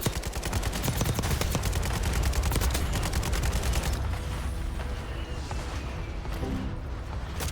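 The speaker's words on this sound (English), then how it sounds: "Hostile airstrike incoming." An airstrike in the Warzone 2.0 video game pounds down as a dense, loud barrage of rapid explosions and gunfire-like bursts, then fades into a rumbling aftermath.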